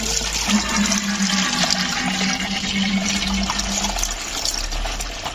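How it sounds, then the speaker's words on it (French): Engine coolant draining out of a detached hose on a Peugeot 308 CC 1.6 THP into a container, a steady close gushing and trickling pour of liquid running continuously without any talk. "ça se fait très facilement pour que le liquide s'écoule"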